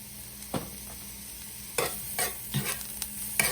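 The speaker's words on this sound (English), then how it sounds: "Gonna saute these guys here." Garlic and tomatoes sautéing in a hot pan, a soft sizzle under a few sharp scrapes and stirs of a utensil, close by and without talk.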